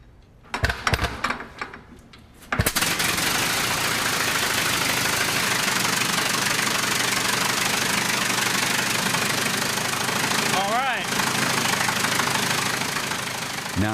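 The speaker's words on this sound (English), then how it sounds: "how a Wright engine really sounds" A replica Wright brothers' aircraft engine starts with a few rough pops, then settles into a loud, steady knocking run that continues unbroken, close by, with no talk over it.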